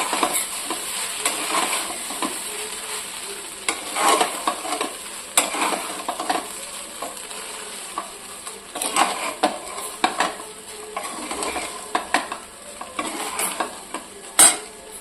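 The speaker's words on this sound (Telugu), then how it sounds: "ఇప్పుడు ఈ రైస్ని అంతా మంచిగా కలుపుకోవాలి" Cauliflower fried rice being stirred in a hot pan, with a steady sizzle and repeated scrapes and clinks of a spatula against the metal, close and alone with no talk.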